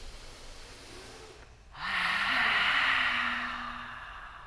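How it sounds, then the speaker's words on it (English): A loud yoga breath: a quiet inhale, then a forceful, rushing exhale that swells and slowly fades, close up, with a voice murmuring faintly underneath. "Take a big breath in. Make some noise."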